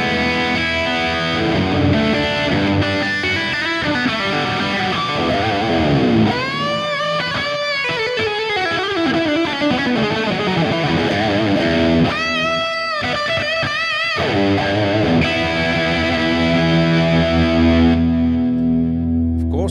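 Electric guitar played through a Fractal Axe-FX III rock preset with a boost switched on, loud distorted chords and bending lead lines ringing continuously, with sustained notes and slides throughout.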